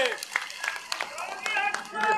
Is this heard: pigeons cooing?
no